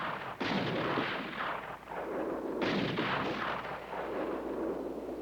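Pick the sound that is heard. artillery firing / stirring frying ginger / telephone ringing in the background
artillery firing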